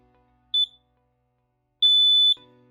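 A LINKD interlinked smoke alarm lets out a short high-pitched beep, then after a pause a longer loud continuous tone, with faint lower tones trailing after it.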